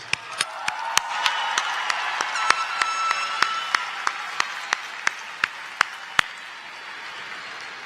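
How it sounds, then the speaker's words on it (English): Commencement crowd applauding graduates' families at a university business college ceremony, broad sustained clapping from a large hall with sharp individual claps popping out near the microphone, slowly thinning toward the end. "Let's give them a round of applause."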